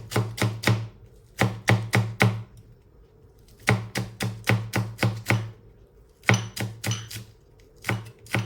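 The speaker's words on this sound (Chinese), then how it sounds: "我们把香葱切成葱花" A knife chops green onions on a cutting board in quick bursts of three to five sharp, close knocks, separated by short pauses, with no voices.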